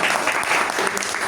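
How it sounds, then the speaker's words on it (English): Audience at a Toastmasters club meeting clapping together, a brief, fairly loud burst of dense applause filling the room. "give a round of applause."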